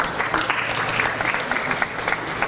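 An audience at a Balkans summit event applauds steadily, a dense, even wash of hand clapping from a large crowd, filling the room throughout without any break.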